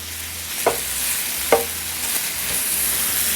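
Shrimp sizzle steadily in a hot pan for a New England style shrimp roll, a close, continuous frying hiss broken by a couple of sharp clinks of a utensil stirring.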